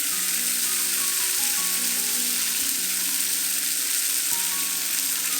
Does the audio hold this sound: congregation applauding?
no